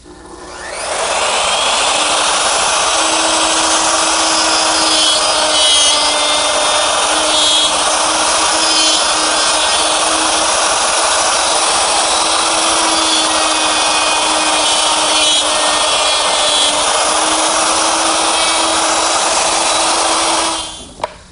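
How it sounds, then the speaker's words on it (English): A power router cutting dovetail pins in a wooden drawer front clamped in a dovetail jig, a loud continuous motor whine with a steady high pitch held for about twenty seconds before cutting off. "Now with the draw front set in the correct position, I'm ready to cut the pins."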